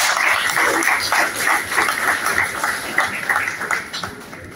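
An audience applauds at a speech by the mayor of Grand-Bourg, with steady, dense clapping that swells and then thins slightly toward the end.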